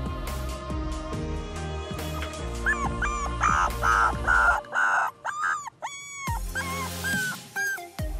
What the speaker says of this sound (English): Just listen to the heart-wrenching cries of these newborn puppies